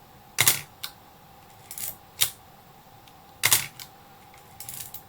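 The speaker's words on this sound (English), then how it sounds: "before the shutter will fire" A Miranda SLR camera's shutter fires several times, making crisp, close mechanical clicks spaced irregularly over a few seconds, with small lever clatter between them against a quiet background.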